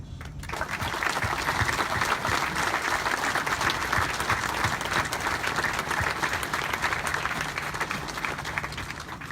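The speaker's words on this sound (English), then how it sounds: "please join me in a round of applause to all the service members, spouses, children, family, and friends who have supported them throughout their careers" A large audience at a U.S. Pacific Fleet submarine force change of command ceremony gives a sustained round of applause, dense and even throughout, heard from a moderate distance with no talking.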